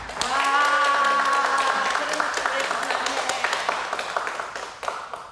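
A group claps at a Korean news segment on a special tax-collection squad, a dense patter of applause that starts loud and slowly thins out. Speech is mixed into the clapping.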